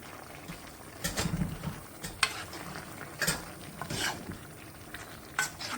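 Tapioca being tipped into a pan of cooked meat and stirred, with scraping and clattering strokes of the spoon in bursts over a low simmering sizzle, close and moderately loud.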